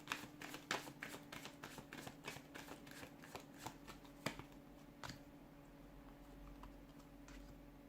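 Tarot cards are shuffled close up in a quick run of crisp riffling taps and flicks, then a few sparse slaps before the sound settles into quiet.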